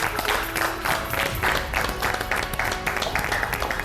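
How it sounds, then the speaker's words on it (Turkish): A steady wash of applause from a cooking competition show audience fills the clip, many hands clapping loudly and continuously with a crowd murmur underneath, no clear pauses. "Alkışlarla uğurluyoruz."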